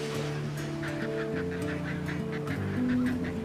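A colony of seabirds calls continuously, with overlapping honking and goose-like cries pulsing in a dense, steady chorus; the calls are moderately loud and layered at varying distances, with no talking.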